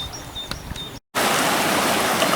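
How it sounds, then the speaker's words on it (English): Fast-flowing river rushing past a riverside promenade in Ebermannstadt, a steady broadband wash of water, preceded by faint birdsong over softer flow before a brief dropout. "the river here has changed quite a lot. It's quite fast."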